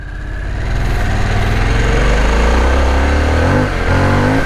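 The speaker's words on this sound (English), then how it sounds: "Cool, this thing picks up, man. It just spins up the rear wheel." A 2021 Harley-Davidson Sportster S accelerates hard with a loud, close, throaty engine roar that builds and holds before the revs drop briefly near the end, with no voices.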